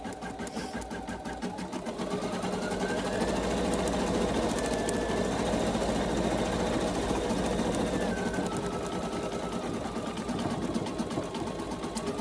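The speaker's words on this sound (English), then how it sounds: "It's embroidering, and we'll just let this run a little bit so you can see." A Brother SE600 embroidery machine stitching a design onto a beanie, its rapid needle chatter pulsing steadily and loud at close range for the whole stretch, with a faint mechanical whine rising and falling beneath.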